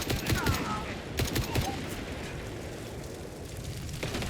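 Gunfire in Indiana Jones and the Great Circle: short, loud bursts of rapid shots in a few clusters near the start, then a steadier rumbling backdrop of combat with a faint voice underneath.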